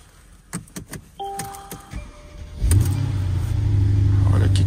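A Chevrolet Camaro bought at auction starts with a sharp crank and settles into a loud, steady idle that swells as the engine revs. A few clicks and a brief electronic tone come before the start, all close by.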